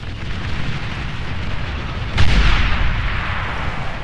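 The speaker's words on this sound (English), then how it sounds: "Humongous explosion as Barcast loses all of his economy" A massive explosion bursts in the Beyond All Reason strategy game as strap bombers wipe out a player's economy on the Hades Ponds map, a sudden loud boom rising over a steady rumbling battle din and then rolling on.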